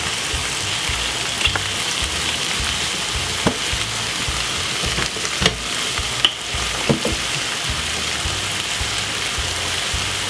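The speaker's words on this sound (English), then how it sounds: "Give it another mix." Pasta with tuna, pepper and ketchup being stirred in a frying pan: a dense, rain-like sizzle runs throughout, with occasional sharper clicks of the utensil against the pan, close and steady, no voices.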